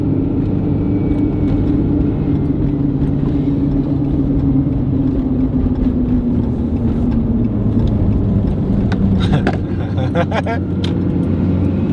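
A car drives along a road through a turn, with a steady engine rumble and tyre whir; the steering is worn. The noise runs loud and continuous throughout, with a few brief clicks and rattles near the end.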